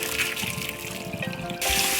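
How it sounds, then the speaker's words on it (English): Water drains steadily from cooked noodles being strained, a close, quiet trickle and splash that swells at the end. "I'm just gonna strain them off."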